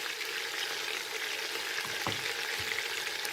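Ginger garlic paste sizzles and fries in a pan while chicken korma cooks, a steady close hiss with a few light stirring scrapes and clicks, no voices.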